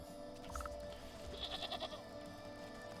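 A goat in the video game Wytchwood bleats in a few short wavering calls, moderately clear over a faint low background hum.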